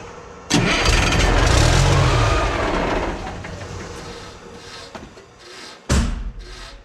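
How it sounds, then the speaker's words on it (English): A Peterbilt 359 truck's starter engages the flywheel and the engine cranks loudly up close for a few seconds, fading, then gives a second short crank burst near the end. "I just wanted to check the flywheel starter engagement there, make sure that's all good."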